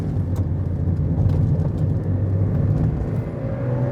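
A car drives along a twisty road over an uneven surface, its engine and road noise forming a steady, fairly loud hum that holds throughout without pause.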